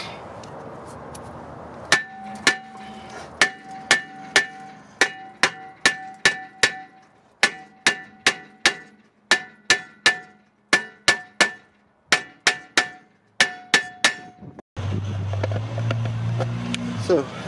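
A hammer taps the rear brake drum of a 2014 Buick Enclave in a garage, about twenty loud metallic clanks with ringing tails in uneven bursts, followed at the end by a few seconds of steady broadband noise.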